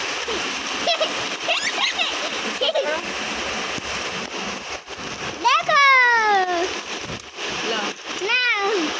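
Heavy afternoon rain pours down in a steady, dense hiss of splashing water, while voices talk and call out over it with a few rising, squealing tones.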